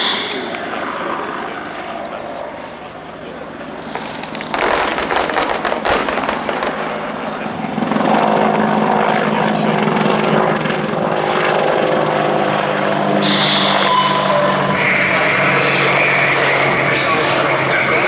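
An Apache attack helicopter performs a role demonstration at an air show, its rotor and engine drone building in loudness, with bursts of pyrotechnic-like bangs and a public-address voice talking over it.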